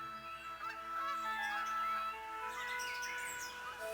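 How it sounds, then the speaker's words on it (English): Birds chirp and tweet in a soft, continuous chorus for several seconds. Calls overlap at moderate distance over a faint steady hum, and no one speaks. "Thank you, all the birds in the world, for singing your beautiful songs for all to enjoy."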